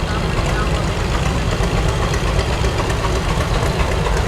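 A big old two-cylinder farm tractor of 336 cubic inches runs at the Cotton Gin Festival 2017, a loud, steady knocking chug that holds close and constant throughout.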